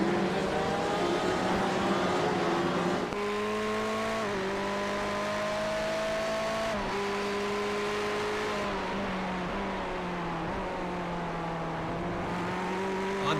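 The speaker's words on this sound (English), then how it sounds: "On board with the Ferrari 488." A Ferrari 488 lapping Donington Park in a sim racing game: steady, loud engine drone from on board, climbing in pitch through each gear and dropping sharply at upshifts, with no speech over it.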